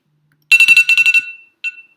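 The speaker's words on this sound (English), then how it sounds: "got an alarm going off" An electronic alarm goes off, a loud rapid burst of about seven high beeps followed by a pause and one more beep, in an otherwise silent room.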